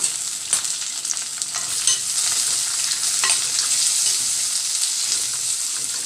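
Tomato, green chili and curry leaves sizzle and crackle in a hot pan, a bright steady frying hiss with occasional stirring scrapes, close and loud.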